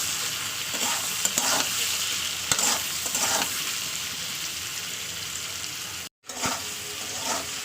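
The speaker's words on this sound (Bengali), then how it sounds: "এক চামচ লবণ হলুদ ও গুঁড়ো লঙ্কা নিয়ে দিয়ে দিলাম দিয়ে ভালো করে আমি কষাবো তেলের উপরে" Potatoes sautéing in oil with salt, turmeric and chili powder, a loud continuous close sizzle with stirring scrapes and a brief cut near the end.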